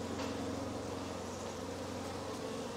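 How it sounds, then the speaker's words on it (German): A wasp buzzing continuously near a beehive during a September colony check, a steady insect drone with a faint, even hum underneath and no voices. "Da ist schon wieder die Wespe."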